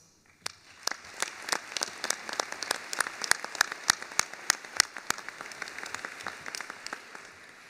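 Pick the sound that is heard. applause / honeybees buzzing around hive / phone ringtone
applause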